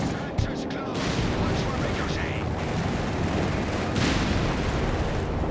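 Machine gun fire from the WWII strategy game Company of Heroes 3 rattles in dense, continuous bursts amid a loud wash of battle noise and distant explosions, with no break throughout.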